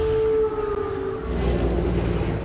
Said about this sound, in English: as emergency air raid sirens wailed.